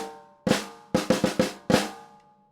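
A single bar of a rock drum part, with loud close-miked cymbal-washed hits and a quick cluster of flams in the middle, played solo.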